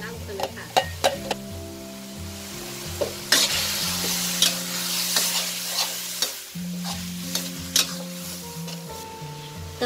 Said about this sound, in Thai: เมื่อเรารวนหมูเนาะจนสุกค่ะให้เราใส่เครื่องที่เราปั่นไว้แล้วนะลงไปเลยค่ะ